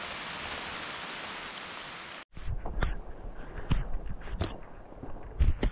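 Rain falls steadily on a hiking trail in a wet, open setting, a dense hiss that cuts off abruptly, followed by scattered close thuds and rustles like footsteps on the wet ground.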